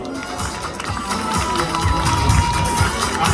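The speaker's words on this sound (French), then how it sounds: "c'est la candidate numéro 12, Sophie, que je vous demande d'applaudir." A crowd applauds a candidate walking onto the stage at a Miss Pin-Up contest during a vintage event in Berre, giving a dense, steady wash of clapping and crowd noise throughout.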